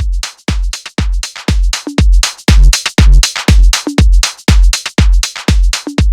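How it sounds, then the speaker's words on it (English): A drum bus treated with New York parallel compression pounds out a loud, punchy groove of heavy kick and snare hits in a steady rhythm, dense and close, with no voices. "The next up we have is New York compression"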